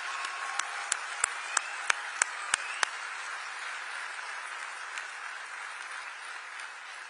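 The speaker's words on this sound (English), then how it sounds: "un gran aplauso a la Presidenta de México, Claudia Sheinbaum" Steady applause fills a large hall at the Kennedy Center as the President of Mexico, Claudia Sheinbaum, is welcomed at the FIFA World Cup 2026 draw. A few sharper, nearer claps stand out early.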